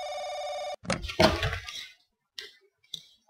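A telephone rings in The Crooked Man video game, starting with a steady electronic ringing tone, then a few sharp clicks and thumps after it stops.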